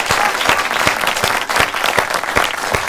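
A studio audience at a World Laughter Day special breaks into steady, rhythmic applause to welcome a guest, a dense run of claps continuing loud and even throughout with no talk over it.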